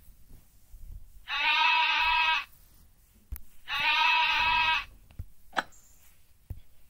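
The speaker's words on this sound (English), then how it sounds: "The sheep run past the tree." Two long, loud bleats from sheep in a children's story, each lasting over a second with a wavering tremble, separated by a short pause and followed by faint clicks and rustles.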